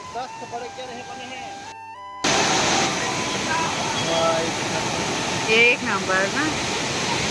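A waterfall at a Chhattisgarh beauty spot, Jatmai Ghatarani, rushes in a loud, steady roar that swells after a quieter opening, while a person speaks briefly over it.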